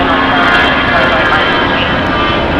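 Thrust reversers roar on a jet airliner just after landing at Los Angeles LAX, a loud, close, sustained engine blast with whining tones, while a voice talks faintly underneath.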